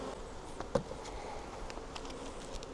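Honey bees humming softly at an open hive during a queen introduction, a faint, steady drone with a brief louder buzz or tap near the start.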